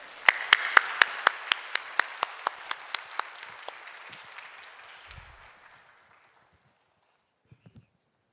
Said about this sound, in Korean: 우리 박수로 환영해 주시기 바랍니다.